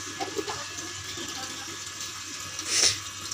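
Water is poured during a fish tank water change, giving a steady soft trickling hiss. A brief, sharper splash comes near the end.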